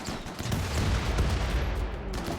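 Dense, continuous RimWorld gunfire: stray bullet rounds and sustained volleys crackle steadily through a loud, chaotic battle with no pauses, with a rumbling low end beneath the shots.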